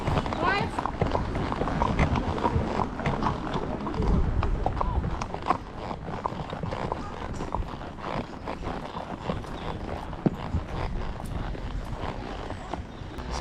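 Hooves clop irregularly on the ground as horses walk in Mallorca, Spain, with a person talking over the steady plodding and shuffling.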